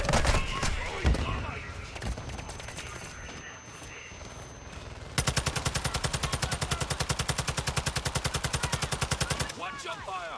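Rapid automatic gunfire in a tactical shooter game during a heist at Building 21, a long sustained burst of evenly spaced shots following a mix of scattered shots and voices, close and loud.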